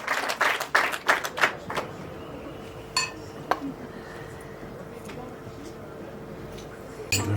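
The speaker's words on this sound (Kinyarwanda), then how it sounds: "Amashyi menshi. Clap." Guests at a Rwandan wedding celebration clap in a short, lively burst that quickly dies away. Faint clinks of glasses and dishes and murmuring voices remain in the background afterward.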